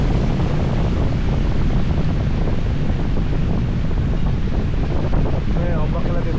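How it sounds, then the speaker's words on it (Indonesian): High sea waves and strong wind along the Padang coast during flooding, a loud continuous roar of surf and buffeting wind against the microphone, steady throughout, with voices faintly under it. "Gila, tinggi banget ombaknya"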